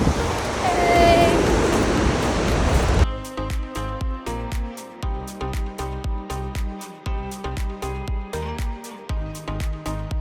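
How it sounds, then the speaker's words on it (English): Gullfoss waterfall in Iceland, a broad roaring rush of falling water with wind buffeting the microphone, loud and close for about three seconds before it cuts to unrelated rhythmic music. "The waterfall is impressive, but it's very wet."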